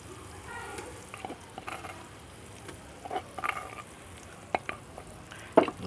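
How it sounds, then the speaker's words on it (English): Ginger and garlic dropped into a pan of frying onions for beef pilau, giving a steady close sizzle with occasional stirring clicks and scrapes over the top. "So now I'm going to add in my ginger and garlic."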